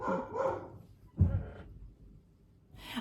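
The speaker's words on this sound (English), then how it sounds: "My dogs are barking" Dogs bark a few times, a couple of quick yaps, then a louder bark after a pause, heard fairly close with quiet gaps between.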